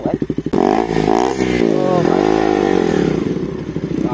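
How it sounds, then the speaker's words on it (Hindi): Yamaha MT-15 motorcycle exhaust, loud and close, starts with a quick chuffing idle and then jumps into a sustained rising and falling rev that holds for several seconds, with a voice talking over it. "ओहो एग्जॉस्ट, सुनो भाई एग्जॉस्ट सुनो भाई"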